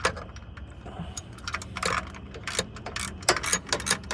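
A ratchet clicks in quick bursts while bolts are tightened on the AC compressor bypass plate of a 1995 Camaro, with metallic tool clinks and pauses between bursts.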